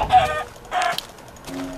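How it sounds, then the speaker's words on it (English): Chickens clucking in the Minecraft video game, two short bursts of clucks followed by a lower squawk, fairly close and clear, with no talk. "Die, chicken, die."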